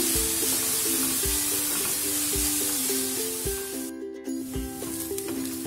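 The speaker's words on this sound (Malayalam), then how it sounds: "മീഡിയം ഫ്ലെയിമിലിട്ട് കൊടുത്ത് ഇത് വഴറ്റിയെടുക്കണം" Onions sautéing in a pan over medium flame for dhaba-style paneer masala, giving a loud continuous sizzle with a droning hum underneath and a brief dip near the end.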